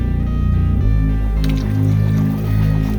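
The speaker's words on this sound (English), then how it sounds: "drop a little bit of vinegar in the water." Vinegar poured into a pot of water for boiling eggs, a steady close liquid pour and fill with soft gurgling, no talk.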